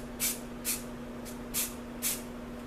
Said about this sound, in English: It's spraying good today, and I'm really happy with that.